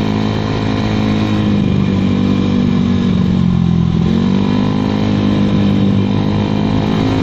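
A Honda Vario 110 carburetor scooter engine runs loud and close through a stock racing exhaust, droning steadily, then dipping and rising again as the throttle is revved.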